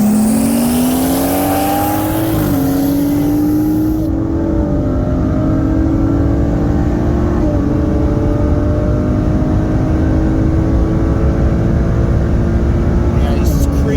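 A 2017 Nissan GT-R on E85 with FBO parts and a 2017 BMW 340i with a Flowmax turbo on E70 launch hard side by side, their engines climbing steadily in pitch through the gears, loud and close, with people talking over them.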